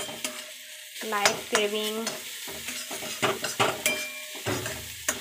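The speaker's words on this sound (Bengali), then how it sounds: "তো আমি এবার ম্যাগির মশলাটাও দিয়ে দিয়েছি, এটা একটু ভাজি ভালো করে" Maggi masala being fried in a pan, with rhythmic spatula scrapes and knocks over a light sizzle, while a voice speaks briefly over the stirring.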